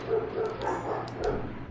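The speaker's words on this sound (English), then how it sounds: "Sorry about the dogs." Dogs bark somewhere in the background, the yips and barks sounding muffled and moderately distant over a steady low hum, with no clear talk.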